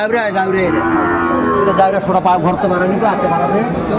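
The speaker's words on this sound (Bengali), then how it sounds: "আমরা দেখছিলাম এখানে দুইটা চমৎকার বাচ্চা শাহিওয়ালার জাহাঙ্গীর ভাইয়ের কালেকশন" Sahiwal cattle at a livestock market low repeatedly and loudly, several drawn-out moos overlapping one another, with crowd chatter and talk running underneath throughout.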